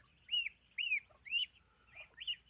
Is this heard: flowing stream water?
no